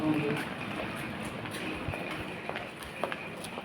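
Train noise at Alipur railway station, a steady broadband rumble with faint rhythmic clatter, heard at a moderate distance among ambient station sounds.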